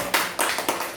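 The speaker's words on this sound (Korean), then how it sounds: "우리 하나님께 영광 박수를 한번 올리겠습니다" Church congregation clapping after a worship service, a short run of sharp, loud, close claps in a quick uneven rhythm, about four distinct bursts within a second.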